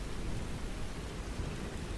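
Steady rainfall hisses evenly with a dense, continuous wash of drops and a low rumbling undertone, constant and moderately loud with no voices.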